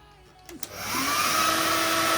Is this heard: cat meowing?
no